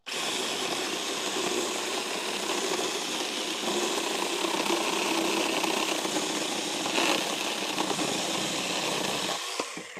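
A Makita cordless battery chainsaw fitted with a new chain runs steadily at full speed, a loud continuous high whine close by that cuts off abruptly at the end.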